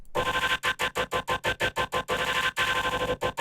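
Chopped samples from a song forming a song intro: dense vocal chords stuttered into rapid rhythmic bursts with abrupt gaps, loud and alone.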